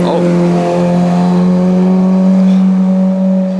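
A Lotus Emira sports car's V6 engine holds a steady, loud, throaty drone at high revs, its tone nearly constant throughout.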